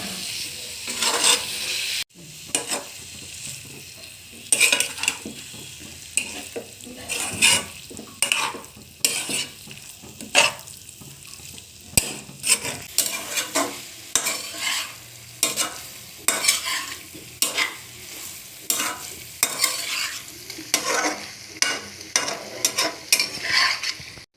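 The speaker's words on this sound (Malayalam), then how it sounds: "ഇനി അടുത്തതായി നമുക്ക് ഇതിലേക്ക് ചിക്കൻ ഇട്ട് കൊടുക്കാം. ഇതൊന്ന് നന്നായി മിക്സാക്കി കൊടുക്കണം." Chicken pieces are stirred in a hot pan for pepper chicken: repeated scraping spoon strokes come in uneven bursts over a continuous close sizzle of frying, with no talking.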